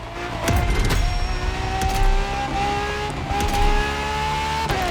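A muscle car in The Crew Motorfest revs hard and races, its engine note climbing through repeated gear shifts with tire noise and sharp transients, loud and close, with no talking.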